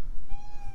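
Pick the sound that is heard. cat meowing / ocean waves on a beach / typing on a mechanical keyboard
cat meowing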